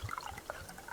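A container being filled with water in a sandbox survival video game, heard as faint, quick watery drips and trickling blips over about a second.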